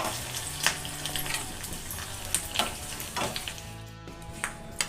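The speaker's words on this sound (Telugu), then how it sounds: "కొద్దిగా కరివేపాకు వేసుకొని పోపు పెట్టుకోవాలి." Cumin, mustard seeds, broken dried red chillies and curry leaves sizzle steadily in hot oil as a tempering for peanut chutney powder, loud and close, with a few sharp crackling pops.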